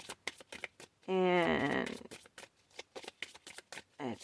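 A deck of astrology cards gets a quick riffle shuffle, a dense burst of papery flutter in the middle, with soft clicks and card handling around it and a voice speaking briefly at the end.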